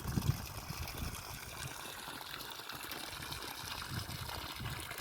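Water trickles and dribbles down steadily as plants are watered, a soft continuous flow with faint splashing and no talk.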